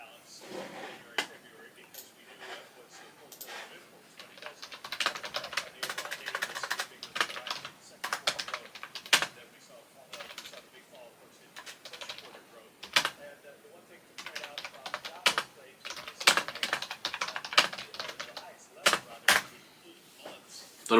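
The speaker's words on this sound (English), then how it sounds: "Don't know why I was typing bare hard there" Rapid, uneven clacking of a computer keyboard, bursts of fast typing with short pauses, close and fairly loud throughout.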